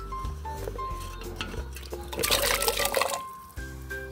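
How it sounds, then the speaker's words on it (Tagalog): Carrots added to a pot of simmering Filipino beef soup, a brief watery splash and bubbling over a low steady hum, close and moderate in level. "So, ilalagay na po natin yung ating carrots"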